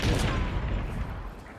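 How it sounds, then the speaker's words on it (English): Gunfire in the video game Hunt: Showdown, a heavy booming blast with a long rumbling, crackling decay, loud and close at the start and fading off over a second and a half. "Those bullets are fucking remarkably close to me considering I'm in the fog and in a bush."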